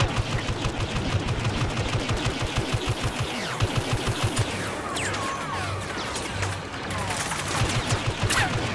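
Rapid blaster fire from a Star Wars Battlefront survival match on Tatooine, dense and continuous bursts of shots in a steady rhythm, loud and close, with sharp cracks and scattered distant reports layered over the battle.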